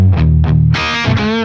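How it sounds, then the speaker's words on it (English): Distorted electric guitar through the drive channel of a Friedman amplifier, loud chugging low notes and then crunchy, high-gain chords ringing out with bright harmonics. "bump it over to the drive channel so you can hear the increase in gain."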